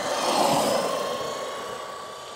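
Redcat Dukono brushed RC truck on a 3S LiPo, a steady electric motor whine that swells briefly then holds, fairly close with no voices.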